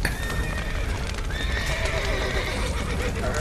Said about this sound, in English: Horses! Put them in the house!